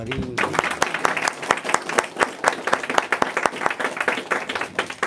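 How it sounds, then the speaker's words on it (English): Applause for a speaker at a devotional lecture on Srila Prabhupada, with brisk, close hand claps from a modest crowd that start after a brief voice and stay lively throughout. "So I would like to have one more wonderful round of applause for Prabhu"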